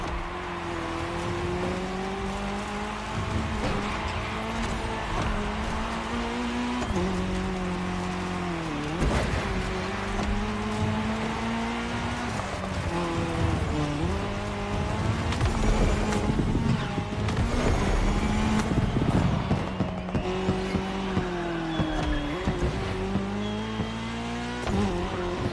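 Race cars in The Crew Motorfest cross-terrain race roar steadily with rising and falling engine revs, gear shifts and occasional tire squeal, close and loud, with no talking.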